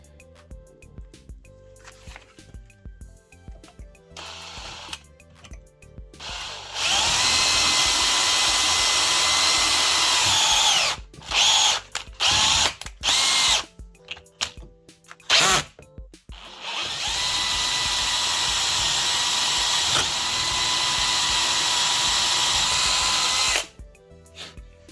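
A hand-held power drill, used without a drill press, bores the next bit size into metal for a spare tire carrier on an FMS FJ40 model. The motor gives two long, loud steady whines, with short bursts and pauses between them.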